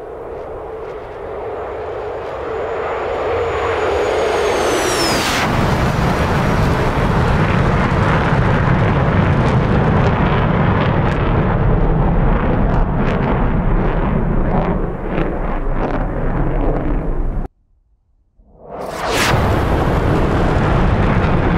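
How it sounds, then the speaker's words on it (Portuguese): A Saab AJS 37 Viggen in the DCS simulator rolls into takeoff with a jet engine rising to a loud sustained roar, cuts out abruptly, then an RB-15F anti-ship missile launches with a sudden loud whooshing blast. "Agora é só decolar e lançar o míssil."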